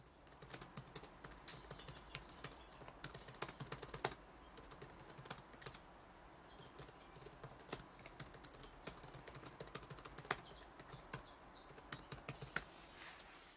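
Rapid, quiet clicking of keys on a 2012 15-inch MacBook Pro Retina keyboard, steady and continuous with brief pauses, close by and alone.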